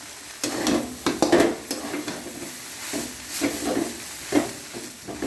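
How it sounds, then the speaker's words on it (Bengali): Egg chowmein being stirred in a pan with soy sauce, close scraping stirs and clatter over a soft continuous sizzle, uneven bursts of movement, no talking. "ভালো করে নেড়ে নেব।"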